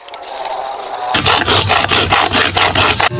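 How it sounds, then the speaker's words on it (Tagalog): A metal-cutting hacksaw rasps through a Suzuki Burgman Street scooter fan cover, close and loud, in steady back-and-forth strokes that begin after a short quiet lead-in. "Kasi wala tayong grinder, i-DIY na lang natin yan boss gamit ang lagari na pambakal."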